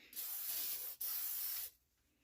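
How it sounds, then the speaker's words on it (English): WD-40 sprayed onto a new Kawasaki motorcycle exhaust, two close, loud aerosol hisses, the first about 0.8 s and the second about 0.7 s, separated by a brief pause and followed by quiet. "So we're going to try WD-40 on this right here."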